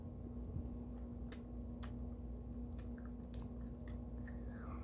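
Someone chews on a wax bottle candy close to the mic, with soft, faint squishy bites and a few sharp clicks scattered over a quiet room hum.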